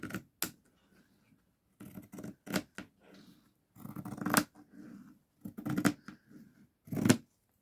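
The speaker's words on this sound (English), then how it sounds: "Now these are Fiskars, so they are pinking shears for sewing." Fiskars pinking shears for sewing chomp through paper in close, crisp bursts, several separate crunching cuts with quiet pauses between them.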